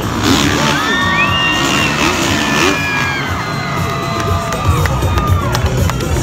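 A large crowd at a Monster Energy freestyle motocross show cheers and screams loudly, with high whoops and children's shouts layered over a steady roar that holds for several seconds.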